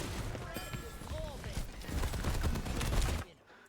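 Rapid gunfire from Junkrat in the video game Overwatch, a dense string of explosive shots and impacts in a busy match mix that runs steadily for about three seconds and then cuts off.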